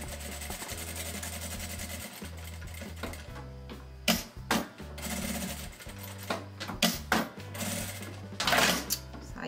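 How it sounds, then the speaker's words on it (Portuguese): A domestic sewing machine runs a safety stitch around the edge of fabric, its motor whirring in steady bursts with brief stops and restarts, fairly close and loud throughout, no talking. "Agora nós vamos passar uma costurinha de segurança toda a volta, pra poder firmar esse tecido aqui"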